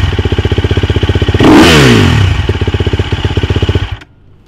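A motorcycle fitted with a Rekluse clutch idles with a rapid close thumping beat, revs up sharply for a moment, drops back to a fast putter, then cuts to quiet.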